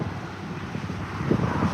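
Wind blows over the Columbia River during a sturgeon fishing outing, giving a steady low rumble and buffeting at the microphone, with no speech.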